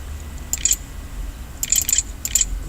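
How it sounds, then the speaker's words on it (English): Typing on a computer keyboard: three quick clusters of crisp key clicks separated by brief pauses, close up over a low room hum, with no talking. "I'm typing this shit in so you can see it."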